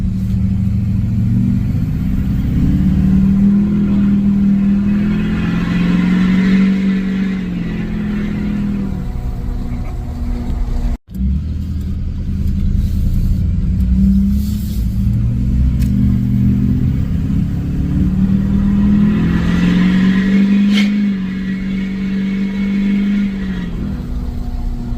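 A Duramax diesel pickup fitted with a 5-inch MBRP exhaust revs up and settles twice, giving a deep, loud rumbling drone with rising surges, heard close and without talk.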